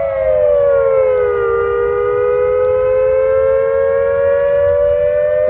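Loud refinery alarm siren in Torrance wails steadily and close, its tone sagging low then slowly rising again over a constant rushing background, with no voices.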